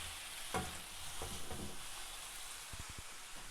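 Quiet sizzling from a pan over high heat with butter and olive oil, with scattered scrapes and taps of a utensil stirring, fairly faint and close.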